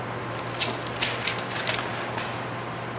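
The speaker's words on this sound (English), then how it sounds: "Cut one side, and then shift it over a little bit. And then cut your other side." A blade slicing window tint film on a car door window, making faint, brief scratchy cuts over a steady low hum, with no talk.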